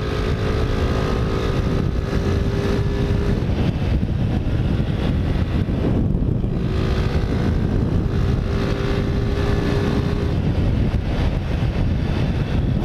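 A Honda Titan 125 motorcycle fitted with a DT-180 carburetor revs and pulls along a rough road, its engine drone steady and close throughout, heavily buffeted by wind rush across the microphone.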